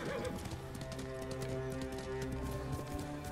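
Video game horse hoofbeats from Ghost of Tsushima clip-clop steadily over a bed of soft music, with no talking.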